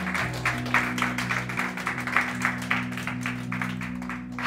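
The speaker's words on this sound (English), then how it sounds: "let's put our hands together and applaud what God is still doing" Audience clapping in church during a Thanksgiving sermon, a steady wash of applause from a crowd layered over sustained music underneath.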